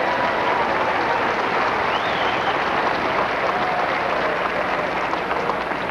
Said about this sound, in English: I think he deserves a great round of applause